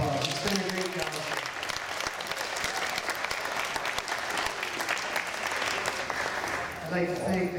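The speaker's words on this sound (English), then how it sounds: "give him a big round of applause" Audience at the Ontario Summer Jersey Show applauds the grand champion Jersey cow, sustained dense clapping from a crowd that runs steadily throughout, briefly easing before swelling again near the end.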